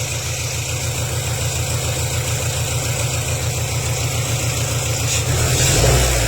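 Car engine idling roughly and misfiring from worn ignition coils and burnt, never-changed spark plugs, cylinders 1 and 4 faulty, with a close, loud, uneven pulsing rumble that swells slightly near the end.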